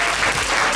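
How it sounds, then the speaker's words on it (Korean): Audience applause at a Korean insight conference talk session as the first presenter is called up: a brief, dense burst of many hands clapping. "박수 부탁드립니다."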